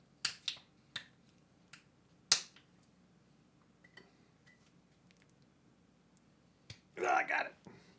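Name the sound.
removing wax seal from a beer bottle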